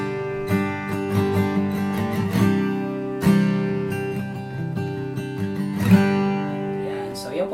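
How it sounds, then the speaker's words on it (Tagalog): A low-action SAS4 acoustic guitar made in China is strummed close up, with ringing chords and sharp strum attacks repeating every second or two, played alone. "Yan po yung tunog ng SAS4."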